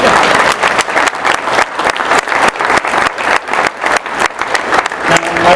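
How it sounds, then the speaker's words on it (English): A crowd at an anniversary celebration speech gives a round of applause, loud clapping that swells and dips in waves, with a brief voice near the end. "I'd like for him to stand up and get a round of applause from everybody"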